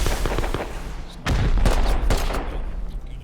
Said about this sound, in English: One turret going.